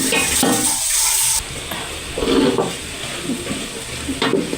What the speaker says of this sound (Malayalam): ഉള്ളി അതിനകത്തോട്ട് ഇടാം ഞാൻ ഉള്ളി ഇട്ടിട്ടുണ്ട് അതിനകത്ത് ഞാൻ കുറച്ച് ഉപ്പൂടെ ഇട്ടിട്ടുണ്ട് നമുക്കത് വാട്ടാം